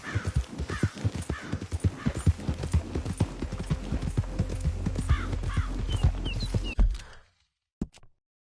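Horse hooves clip-clopping in a steady galloping rhythm in the Red Dead Redemption 2 video game, close and loud with a constant low rumble beneath, cutting off abruptly near the end.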